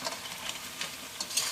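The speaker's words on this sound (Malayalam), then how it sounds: "നമുക്ക് നന്നായിട്ടൊന്ന് മിക്സ് ചെയ്യാം." Fish pickle mixture is stirred in a hot pan, with a quiet sizzle under a series of soft, uneven scraping strokes.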